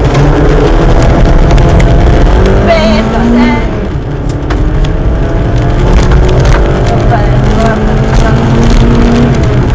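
A Suzuki Swift GTi rally car on an ice rally stage launches hard from the start, its engine loud and revving through rising gear pulls, with crunching and road noise underneath throughout.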